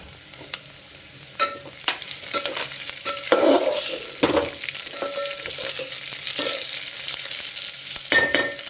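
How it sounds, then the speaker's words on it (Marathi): Onion and capsicum sautéing in oil in a pan for pulao, a close crackling sizzle broken by frequent spatula scrapes and taps as the vegetables are tossed, with no voices. "बघा कांदा भाजलाय, आता शिमला मिरची टाकायची"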